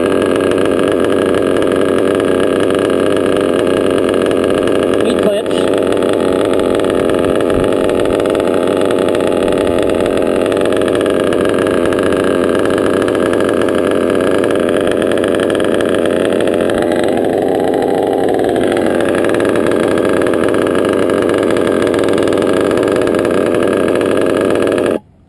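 A tuned engine idles steadily and close by for the whole stretch, with a constant loud rumble and a slight waver in pitch partway through.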